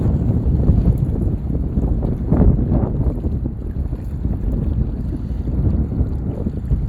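Wind buffets a drone-mounted microphone on a gusty day, a continuous loud low roar that swells and dips, with no other sound breaking through.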